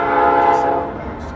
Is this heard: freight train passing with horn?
yes